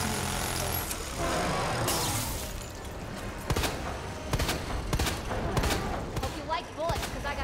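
Gunfire in Resident Evil 2 rattles in bursts and sharp single shots over a noisy, busy backdrop, with loud cracks through the second half.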